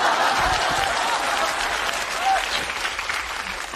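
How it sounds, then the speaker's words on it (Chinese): Neighbours in a sitcom scene break into sustained applause, a dense wash of clapping that holds steady throughout and tapers slightly near the end. "啊，街坊邻居还鼓掌呢"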